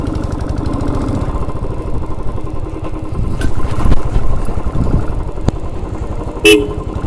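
Royal Enfield Thunderbird 350X engine thumps steadily at close range on a road ride, a continuous loud throb with passing wind noise and a couple of brief horn-like toots.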